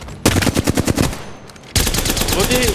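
Peacekeeper shotgun fire from the Apex Legends video game: a rapid run of loud blasts, a short lull, then a dense, sustained burst of gunfire.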